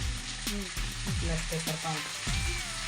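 Noodles sizzle steadily in a hot frying pan while being stirred, with scraping and clinking of a utensil against the pan over the continuous frying hiss.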